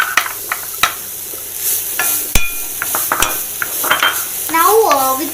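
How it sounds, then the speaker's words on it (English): Grated carrot stirred in a dry, heated pan without ghee or oil for coconut kalakand, giving clattering scrapes and soft sizzling with sharp utensil knocks against the pan, close and busy throughout. "So now we're gonna add our 1 carrot, which we cutted or grated."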